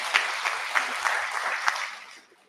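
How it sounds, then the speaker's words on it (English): Applause from an audience, a steady wash of clapping with a few sharper claps standing out, fading away toward the end. "Give her a round of applause."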